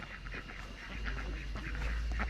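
Ducks quack in repeated short nasal bursts at moderate distance, steady over a low background hum.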